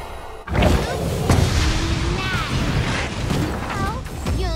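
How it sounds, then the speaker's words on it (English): A turret crumbles in the mobile game Honor of Kings, a loud crash and boom over dense battle effects with whooshes and a synthetic announcer voice. "Your team has destroyed a turret."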